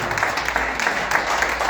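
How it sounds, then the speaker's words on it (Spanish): A church congregation claps during a Spanish-language worship service, with a brief burst of steady applause that fills the short moment. "Dale el aplauso al Señor"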